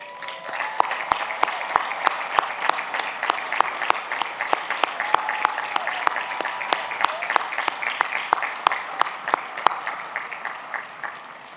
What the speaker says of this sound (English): Please join me in recognizing these outstanding students with a round of applause.